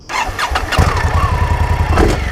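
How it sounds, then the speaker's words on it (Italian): An Indian Scout Bobber motorcycle cranks and fires up, settling at once into a loud, close, steady throbbing idle with a brief throttle blip near the end. "Sentiamo la messa in moto."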